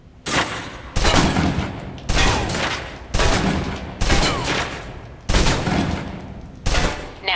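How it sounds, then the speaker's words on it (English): Submachine gun in the video game Alpha Protocol emptying its clip at a target, fired in about seven loud rapid bursts, each a dense rattle of shots separated by brief pauses. "Now, let's move on to the submachine gun. Now let's empty the clip."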